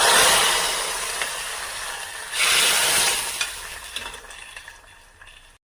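Hot tempering of mustard seeds, shallots and dried chilli in coconut oil hits tamarind curry with a loud hissing rush that swells again, then fades into softer sizzling and a few scraping stirs.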